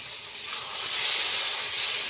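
Fried potatoes dropped into a pan of cooked-down spice paste with oil separating, for a Bengali snakehead fish curry, giving a steady close hiss and sizzle that swells slightly, with no talk.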